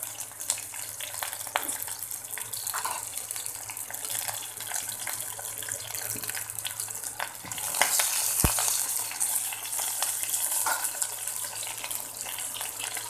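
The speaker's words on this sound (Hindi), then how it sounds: "साथ में अभी 5 फूरन मसाला डाल रही हूँ" Panch phoron spice mix sizzling in hot oil in a pan for a parwal (pointed gourd) curry, a steady close hiss and crackle that stays continuous with no talk.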